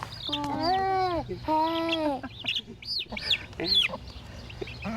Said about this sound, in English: Hey, Catherine, feed the chicken